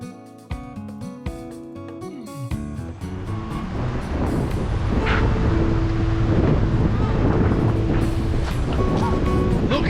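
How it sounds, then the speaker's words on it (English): Steady wind rushing by open water at Toledo Bend Reservoir on the Texas–Louisiana border, a broad continuous roar that builds after a few seconds, with a low droning hum underneath. "It's just windy."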